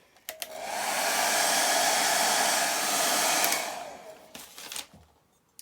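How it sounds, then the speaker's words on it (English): A hair dryer blows steadily at close range for several seconds drying inked paper pages, with a short click as it starts and a few faint knocks after it shuts off. "maybe use the hairdryer again"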